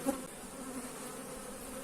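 Honeybees buzz softly and continuously close by at a hive, a faint steady hum with a few brief louder passes and no voices.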